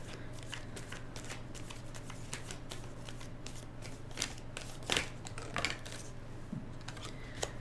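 Tarot cards being shuffled by hand, a steady run of soft riffling and papery flicks with a few sharper card snaps near the end, over a constant low hum and no talking.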